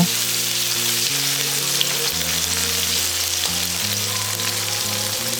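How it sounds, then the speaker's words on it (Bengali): Chopped onion with cumin fries in hot oil on a medium gas flame for a Bengali katla fish curry, giving a loud, continuous close sizzle with a faint low hum beneath and no talking. "এবারে পেঁয়াজটাকে হালকা নাড়াচাড়া করে কিছুক্ষণ ভাজতে থাকবো"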